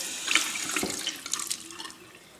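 Tissue paper soaks under cold water from a running tap into a sink, a splashing, trickling flow that rises and then tapers off, close and moderately loud with no voices.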